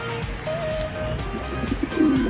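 A pigeon at a home nest site coos in short low bursts near the end, with a faint tonal hum and light background noise throughout and no talking.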